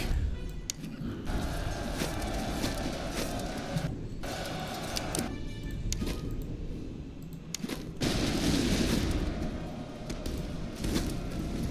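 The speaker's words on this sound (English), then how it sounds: "Opening fire on the enemy." Gunfire in the Master of Command video game, a Kreis Contingent campaign battle: dense, continuous musket volleys crackling in rolling waves, with sharp bursts and brief lulls over a steady background din.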